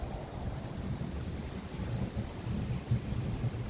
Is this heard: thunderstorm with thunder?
yes